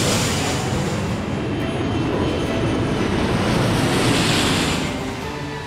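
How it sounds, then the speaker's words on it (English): A cartoon airplane comes in to land with a loud, steady roaring engine drone that swells slightly and then fades a little toward the end, heard alone without voices. "Camilla, you are cleared for landing for real this time."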